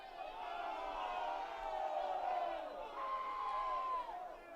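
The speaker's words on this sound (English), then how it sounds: "that's why you hear some groans from the crowd" Crowd at a high school boys soccer match lets out a sustained, swelling groan of many voices, rising and falling over several seconds at moderate distance with no clear speech.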